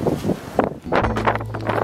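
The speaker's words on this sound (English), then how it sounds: "It's a bit windy." Gusty wind buffets the microphone at a coastal lookout on the road to the Twelve Apostles, loud roaring bursts rising and falling over about two seconds.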